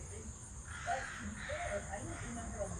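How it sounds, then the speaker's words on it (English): A large bird, likely a crow, caws outdoors on a foggy morning, a few harsh calls at moderate distance over steady background hiss, with a person talking quietly underneath. "Oh, Sadie, did you hear that big bird?"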